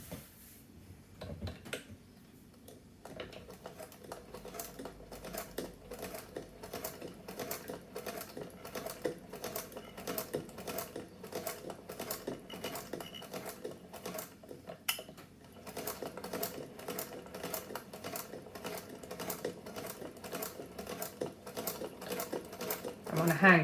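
A hand-crank sewing machine stitches a seam for a wine glass bottom, its needle ticking in a steady, fast rhythm that runs almost without a break, close and fairly quiet.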